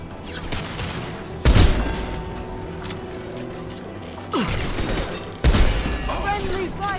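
Gunfire from the video game Mass Effect 2 Legendary Edition: loud bursts of weapon fire and impacts over continuous game noise and music, with a few sharp jumps in level, and people talking faintly among the shots.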